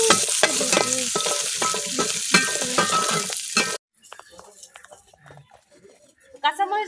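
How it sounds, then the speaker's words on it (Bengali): Green chilies fry and sizzle loudly in a hot pan, with crackling bursts and stirring scrapes before the sizzle suddenly drops away to quiet kitchen sounds and brief talk. "মরিচ গুলো ভালোভাবে বাজা নিলাম"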